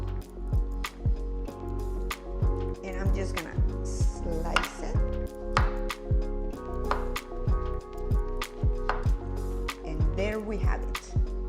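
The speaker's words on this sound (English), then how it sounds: "We are almost done with our kiwi, and I'm just gonna slice it." A knife slices through kiwi fruit on a board, giving a run of short, crisp cuts in a steady rhythm at close range, over light background hum and faint clatter.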